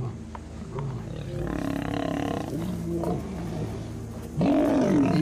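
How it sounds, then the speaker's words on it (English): A black-maned wild lion roars loudly and close, deep rumbling calls building across several seconds and peaking in a powerful final roar, heard from a nearby vehicle on an African safari. "You'd felt like the car was vibrating from this roar."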